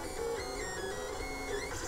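A Lulzbot Mini 3D printer printing, driven from a BeagleBone Black, gives a steady, continuous motor whine with shifting stepper tones that hold for the whole stretch at moderate, close level, with no talking.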